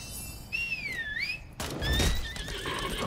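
A horse in the video game Lost Ark gives two clear whinnies, a long rising and falling neigh followed by a shorter one, over a low game ambience with a thud between them.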